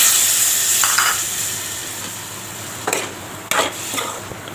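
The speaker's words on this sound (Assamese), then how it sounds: "এতিয়া মই ইয়াত অলপমান পানী দি দিম" Meat frying in a pan as a little water is poured in, a steady close sizzle with a couple of sharper hissing bursts as the water hits the hot pan, for boiled meat with jika.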